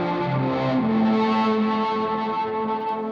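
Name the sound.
Archetype Cory Wong plugin distortion on a synth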